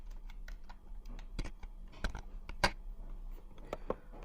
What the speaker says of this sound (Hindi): अब यहाँ पर हम टाइप करेंगे आज की डेट